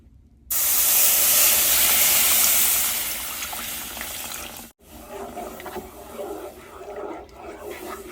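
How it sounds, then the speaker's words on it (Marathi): Milk is poured into roasted semolina in a pan, giving a loud hissing splash that sizzles for a few seconds, then fades into softer bubbling and stirring noises after a brief pause. "तर यात आपण आता हे 2 कप दूध घालणार आहोत."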